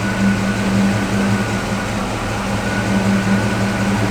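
A 1979 Pontiac Firebird Trans Am 10th Anniversary Edition with about 5,500 miles idles after starting, a steady low engine hum with a constant drone and no other sounds.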